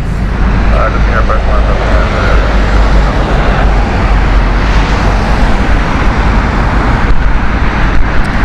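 An airliner roars loudly at Heathrow Airport, a broad, steady engine rumble and rushing noise filling the whole stretch without letup.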